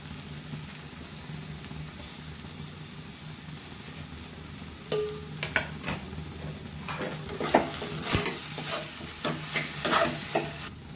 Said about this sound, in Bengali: এবার এটাকে আমি ভালো করে মিশিয়ে নেব